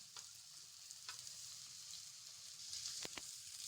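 Chopped boiled egg stuffing frying in a pan, a soft steady sizzle with a few light stirring scrapes and clicks, quiet and close with no talking.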